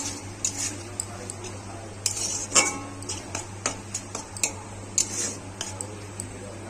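Sauce is stirred into a pan for chowmein with soy sauce, giving light scraping and clinking of a utensil against the pan in scattered taps, close up over a steady low hum, with no talk.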